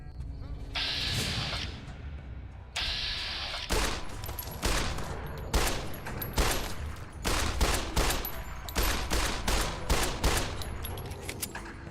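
Gunfire in the Fallout: New Vegas video game, a long, dense run of sharp shots, first a few spaced bursts with hissing tails, then rapid overlapping cracks building into a near-continuous volley, loud and close.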